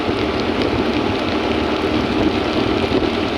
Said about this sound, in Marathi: पाऊस आलेला आहे का तुम्ही बघू शकताय